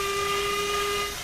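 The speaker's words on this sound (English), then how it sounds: "You push it in to do the whistle." Steam whistle of the Terrier 150 locomotive in Train Simulator Classic on the Isle of Wight Steam Railway, a steady sustained tone held for about a second over a loud hissing, rumbling background.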